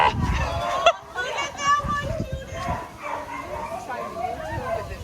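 Rescue dogs from Amigos de los Animales bark during an outdoor beach walk in Puerto Rico, with scattered barks mixed in with children's voices, talk and general background noise.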